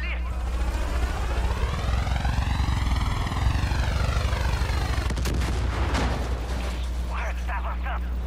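A helicopter in the video game Far Cry 5 flies overhead with a steady rotor thrum and a rising-and-falling engine whine, loud and close, shifting into rougher mechanical noise and bursts near the end.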